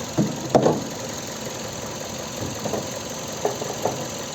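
A 2007 Kia Ceed 1.6 petrol engine idles steadily at low revs, with a faint regular ticking and a few louder knocks and clicks near the start.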